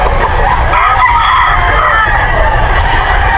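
A seven-month-old stag, a young rooster, crows loudly and continuously at a busy pet market in Bocaue, close by over dense surrounding market noise.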